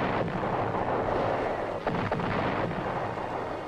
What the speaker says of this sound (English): The North Vietnamese launch a massive artillery attack.